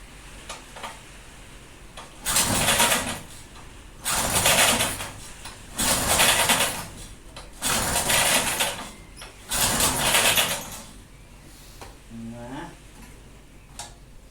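A push lawn mower bought at a flea market being started indoors: five loud pull-cord bursts of sputtering, spaced about two seconds apart, each failing to catch, with a brief voice near the end.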